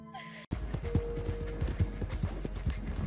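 Horse hooves clip-clop in the video game Red Dead Online, a quick run of uneven thuds close by after a brief silent start, with a steady tone and scattered game noises underneath.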